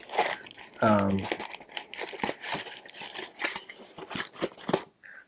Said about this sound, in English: And then inside the cozy is just an aluminum windscreen.